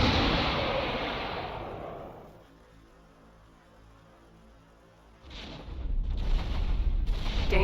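Missile strike in a Star Wars space combat game: a heavy rumbling blast that fades into quiet, then a second loud roaring burst of explosive noise near the end.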